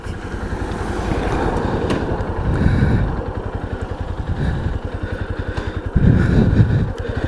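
A Yamaha Ténéré 250 motorcycle engine idling and revving steadily nearby, with a chugging pulse and a couple of louder throttle blips.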